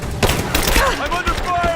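Gunfire in the video game Rise of the Tomb Raider, loud bursts of shots and blasts crowding together in a chaotic firefight, with a shouting voice and other game sounds mixed in.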